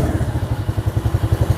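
A Dazzle 125 ATV with racing rims runs its small engine at a steady idle, a close, pulsing low thump repeating rapidly and evenly with light mechanical clatter.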